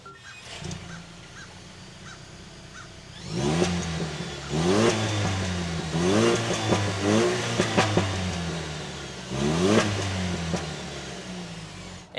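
A 2024 Toyota Tacoma Trailhunter engine revving up in several repeated bursts after a quiet idle, the rising rev sweeps clear and moderately close with no talking.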